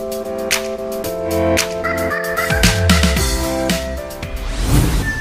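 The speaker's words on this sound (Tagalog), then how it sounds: "Marami tayong mga manok dito na pupuntahan at titignan pala." Chickens and gamefowl stags call at a breeding farm in Mabini, Batangas, with loud overlapping crowing close by and more calls in the background.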